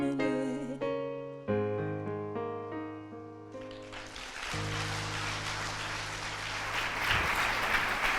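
An a cappella group's harmonised singing ends on a sustained chord, and a concert audience breaks into applause that swells and continues steadily beneath the fading held note.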